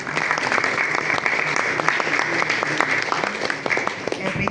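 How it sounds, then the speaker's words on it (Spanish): An audience at a business conference on digital transformation and factoring breaks into steady applause, dense overlapping claps filling the room at even loudness throughout. "Aplausos, por favor."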